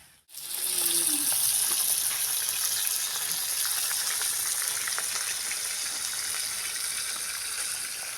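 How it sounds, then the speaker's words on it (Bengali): Chopped onions frying in hot oil for a mustard-sauce pabda fish curry give off a loud, steady sizzle that begins abruptly and hisses on without a break. "তেলের মধ্যে পেঁয়াজগুলো দিয়ে দিয়েছি"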